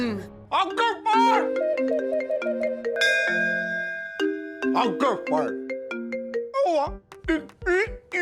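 A phone rings out on an outgoing call as a melodic sequence of sustained electronic tones, with people speaking at the start and again near the end.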